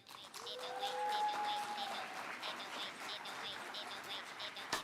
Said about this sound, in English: Big warm applause for Senator Mazie Hirono.